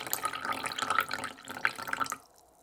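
Tap water running steadily into a container while making slime, a continuous splashing rush that stops near the end, leaving quiet.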